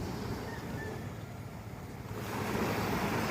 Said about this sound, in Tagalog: Ay, malakas ang alon.